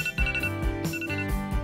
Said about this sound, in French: Oh, c'est mon réveil?